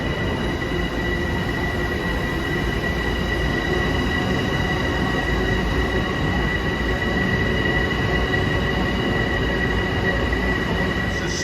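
A Long Island Rail Road train pulls out of Grand Central bound for Huntington, its steady rolling rumble loud and close with a faint high wheel squeal running throughout, no voices.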